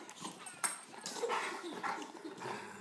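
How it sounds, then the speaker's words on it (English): Dog growling, yipping and barking at bubbles, quick short canine sounds close by, mixed with faint background voices. "he's such an angry devil dog when it comes to bubbles"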